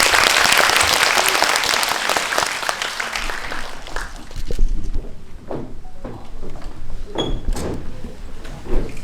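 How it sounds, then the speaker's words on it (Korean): Audience applause at a Korean cinema talk event after a film screening, loud clapping that fades within a few seconds, leaving scattered claps, shuffling and faint chatter in the hall. "박수 한번 부탁드립니다"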